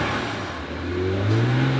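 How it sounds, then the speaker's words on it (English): A BMW car engine, freshly repaired, revs up under the throttle, the pitch climbing steadily to a louder, higher whine toward the end, heard close and without any voices. "it's idling smooth, but watch, when you step on the gas, it goes."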